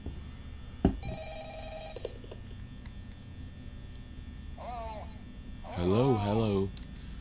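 A telephone rings in the Five Nights at Freddy's video game with a buzzy electronic trill, followed by short voiced sounds late in the clip, over a steady low hum.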